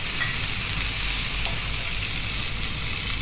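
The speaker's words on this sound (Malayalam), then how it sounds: "ഇതിലേക്ക് ഫ്രൈ ചെയ്ത ചിക്കൻ കൂടി ചേർത്ത് കൊടുത്ത് നന്നായി മിക്സ് ചെയ്യാം" Fried chicken stirred into soy and tomato sauce for chilli chicken, hissing in a hot pan with a loud, continuous broadband sizzle and faint stirring underneath, close and steady, no talking.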